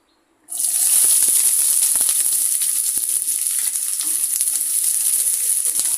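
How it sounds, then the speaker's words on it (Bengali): Thickly cut onions dropped into hot oil in a pan, bursting into a loud, steady, close sizzle that continues unbroken with small crackles. "পরিমাণ মতো তেলটা গরম হয়ে গেছে পেঁয়াজ দিয়ে দিব এখানে"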